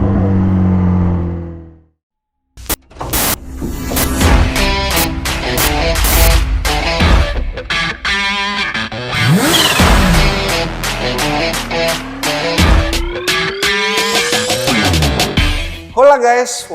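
A BMW S 1000 XR sport adventure motorcycle starts up, then revs hard and loud in repeated sweeping bursts that rise and fall, close and dominant with no voices over it.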